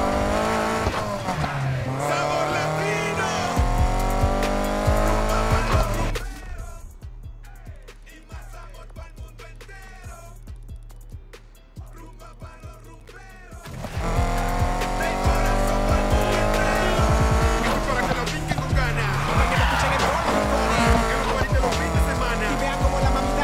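Need for Speed Heat racing: a car engine roars and revs loudly with tires squealing, easing into a quieter stretch of low engine rumble and skids before the full roar and squeal return.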